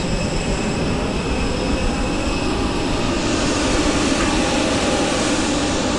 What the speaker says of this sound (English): And that was the aircraft.